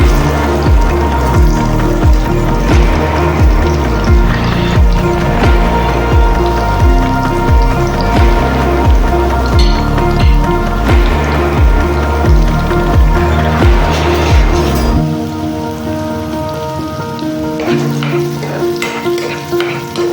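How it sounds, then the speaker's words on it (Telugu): Finely sliced onions drop into hot oil with seasoning seeds, sizzling and crackling loudly and steadily for most of the clip, then the frying settles to a softer, sparser crackle near the end. "ఇలాగా సన్నగా కట్ చేసి పెట్టుకున్న ఆనియన్స్ని అయితే ఇప్పుడు వేసేసుకోవాలి"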